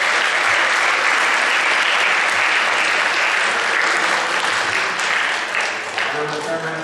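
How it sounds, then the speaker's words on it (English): Loud, sustained applause from a crowd at a high school spring sports awards ceremony, dense clapping that holds steady and then starts to thin near the end. "Give them a round of applause."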